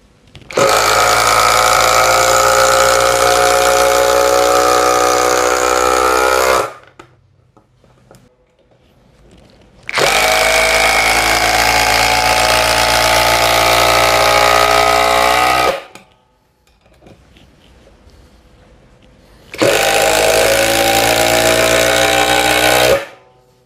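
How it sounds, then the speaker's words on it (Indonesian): A 12V Work WU132 cordless impact driver runs at speed 3, driving screws in three long, loud bursts of rapid hammering rattle, each several seconds long, separated by short quiet pauses. "Sekarang saya akan gunakan speed 3. Kita akan masukkan skrup 1, 2, 3, 4, 5, 6, 7."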